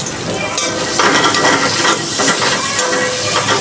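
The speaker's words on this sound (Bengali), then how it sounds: "একটু ভাজা ভাজা করে নেব।" Chopped onion and green chili hiss and sizzle loudly in hot oil in a pan, with a steady crackle and occasional stirring scrapes, close up and with no talk.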